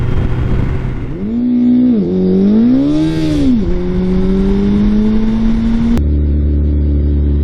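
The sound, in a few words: Suzuki Hayabusa motorcycle doing a burnout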